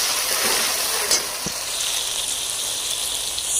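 Garlic ginger paste sizzles in hot oil with browned onions for chicken biryani, a steady close crackle of frying with a brief stir noise partway through.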